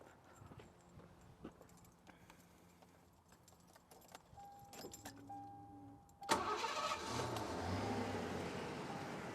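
A 1989 Lincoln Mark VII LSC with a 5.0 HO V8 cranks and fires, a sudden loud catch after quiet key and small clicking sounds, then settles into a steady close idle.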